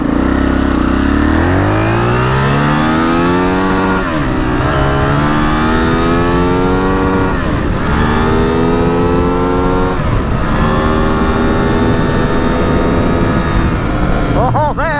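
An Aprilia RXV450 motorcycle accelerates hard on a ride, its engine note climbing through gears in repeated rising sweeps with brief dips at shifts, loud and close throughout with steady wind rush.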